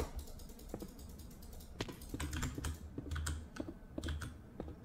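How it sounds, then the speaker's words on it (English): Rapid spam clicking on a computer during Minecraft duels: dense, close bursts of sharp clicks and key taps come in uneven flurries with short pauses and no talking. "You probably hear spam clicking."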